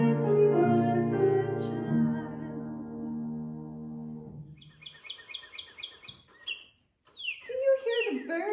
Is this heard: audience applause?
no